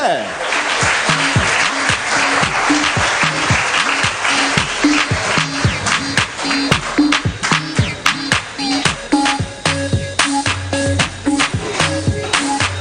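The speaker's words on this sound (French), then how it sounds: "Je vous demande de l'applaudir bien fort, s'il vous plaît." Audience applause at a Guadeloupe sports awards ceremony honouring a fencing champion: sustained, loud clapping from a crowd, with a sharper scatter of claps and music or a voice running underneath throughout.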